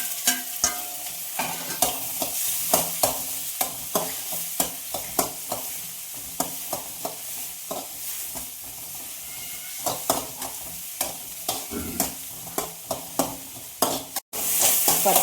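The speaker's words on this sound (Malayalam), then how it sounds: "പച്ചമുളകും തക്കാളി ഉള്ളി ഒന്ന് നല്ലോണം വഴറ്റി വന്നു" Tomato, green chilli and onion sauté in a pan for an Ayala (mackerel) curry, with a steady sizzle and regular scraping stirs of a spoon across the pan, close and fairly loud throughout.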